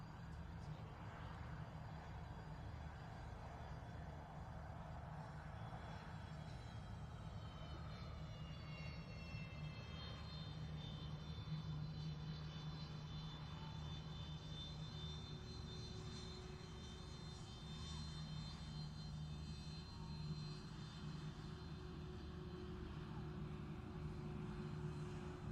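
An Antonov An-178 transport aircraft turns on the runway at the Farnborough International Airshow, its engines giving a steady, moderately distant drone with rising and falling whine tones throughout.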